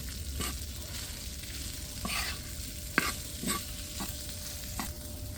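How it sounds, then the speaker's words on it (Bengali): Onion and green chili fry lightly in a pan for chicken chaap, a soft sizzle broken by several distinct scraping stirs at an irregular pace. "সুন্দর করে একটু হালকা ভাজা দেব"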